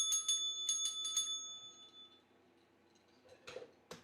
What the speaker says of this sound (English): You even get rare ceremonial bell ring.